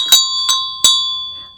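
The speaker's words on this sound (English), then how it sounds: "I specifically brought this bell for the new year session" A small handheld bell rung for New Year, three bright clear strikes close up, each ringing on with a sustained metallic tone that fades slowly, no talk.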